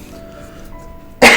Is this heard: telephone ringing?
no